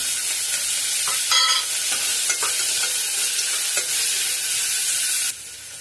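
Chili powder frying in oil in a pan for a broad beans curry, a loud close hiss with a burst of spatula scraping and a few clicks before the sizzle drops away at the end.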